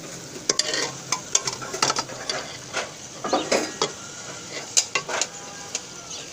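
Spaghetti is stirred with a spice mix in a pan, giving close, irregular scraping and clinking over a soft sizzle, with quick bursts of stirring spread throughout.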